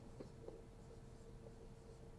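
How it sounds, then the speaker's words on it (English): A pen writes an answer by hand during a physics force problem: faint, short scratchy strokes and light taps sound close by and quietly, with no talking. "I'm going to write it over here."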